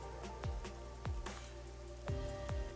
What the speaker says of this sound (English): It's going to rain all day, today, tomorrow, and every day after that.